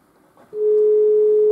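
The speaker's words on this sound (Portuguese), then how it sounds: "Vamos tentar fazer aqui uma chamada para mostrar como fica o Bluetooth." A steady single-pitch call tone from a phone call placed over Bluetooth through a Macrom AN700 double-DIN 7-inch car radio starts partway in and holds loud and unbroken to the end, after a quiet lead-in.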